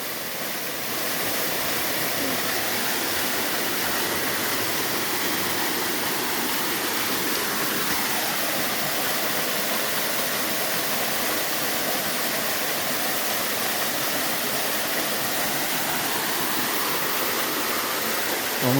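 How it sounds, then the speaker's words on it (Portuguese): A small waterfall on a nature trail pours steadily, giving a continuous broadband rushing hiss at moderate level with no pauses throughout. "Eu tenho uma mini cascata ali,"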